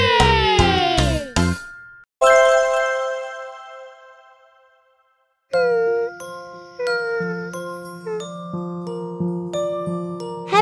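A sequence of bright chiming dings and jingly bell tones, some ringing out and decaying, others quick and clustered, with no voices.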